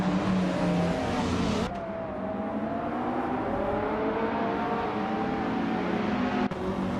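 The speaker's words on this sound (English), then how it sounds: "500 cars are roaring to life here at Algarve" Racing engines at the start of a race at the Algarve circuit, including a vintage 1996 Toyota Sard MC8R, roar continuously and loudly, pitch sweeping as revs change, with an abrupt cut in the sound partway through.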